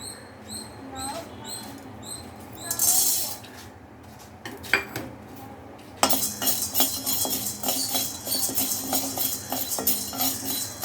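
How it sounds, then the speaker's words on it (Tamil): Chana dal dry roasting in a pan without oil, with scraping and clinking of a spoon against the pan, intermittent at first and then steady gritty rattling of the lentils being stirred. "நல்லா கடலைப்பருப்பு வந்து நல்லா செவந்துருச்சு எண்ணெயெல்லாம் ஊற்ற வேணாம் சும்மா ட்ரை ரோஸ்டே பண்ணலாம்"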